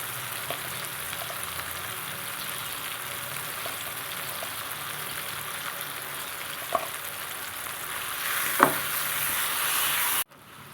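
Tomatoes sauté in a pan with garam masala for biryani, giving a steady, even sizzle throughout with a few faint clicks of stirring.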